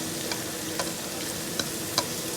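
Cabbage, carrot and capsicum stir-fry in a hot pan for fried rice, a steady sizzle punctuated by a few light scraping taps of a spatula; no one talks.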